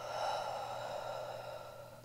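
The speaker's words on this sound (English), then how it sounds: "And exhale." A steady, airy exhale during a yoga flow, one long breath out sustained for about two seconds, close and soft with no talking.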